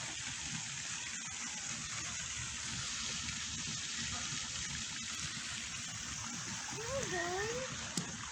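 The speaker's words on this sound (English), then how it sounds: "The beautiful sound of the pond" Broadband water noise from a pond fills the background steadily and fairly loud, with a bird call near the end.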